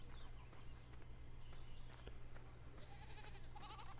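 Faint goat bleats in Landwirtschafts-Simulator 17, a few thin cries over a steady low hum and farm ambience, quiet and somewhat distant.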